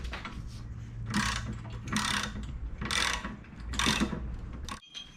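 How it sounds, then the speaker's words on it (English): Ratchet with a 22mm socket tightening a large bolt on a Jeep JK tire carrier, heard as four rhythmic bursts of rapid clicking close by, with brief pauses between strokes. "to tighten this big bolt down, you're going to need a 21mm wrench and a"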